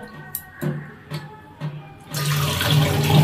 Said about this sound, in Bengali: ভালো করে ধুয়ে নাও, ধুয়ে জলটা ফেলে দাও